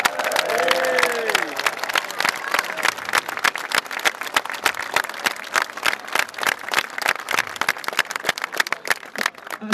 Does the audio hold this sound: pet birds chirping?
no